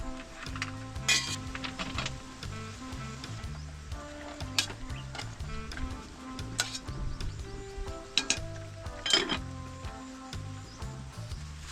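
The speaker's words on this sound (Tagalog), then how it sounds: "Yan, meron po tayo dito 3 itlog. Atin lang po i-scramble." Three eggs are scrambled in a pan, a utensil clinking and scraping against the pan in irregular taps and stirs, with faint sizzling underneath and a few sharper metallic clinks.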